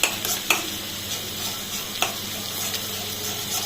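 Beaten egg stirred into beef chow mein frying in a pan, a steady close sizzle with sharp scrapes and clacks of the utensil at irregular moments, no voices.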